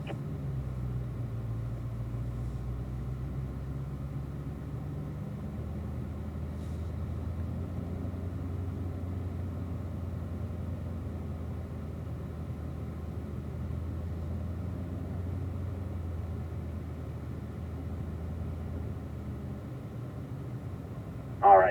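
A Corvette at a driving school rolls at low, steady speed toward the race track, its engine a constant muted rumble under road and cabin noise, with a brief louder bump at the very end.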